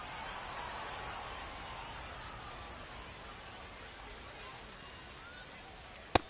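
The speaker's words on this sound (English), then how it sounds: "We'll see how well the field holds up with the way the rain is coming down." Rain falls on a baseball field in the video game MLB The Show 26, a steady, soft hiss that stays even throughout. A single sharp tick comes near the end.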